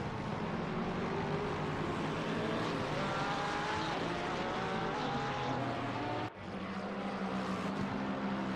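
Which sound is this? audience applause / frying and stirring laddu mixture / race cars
race cars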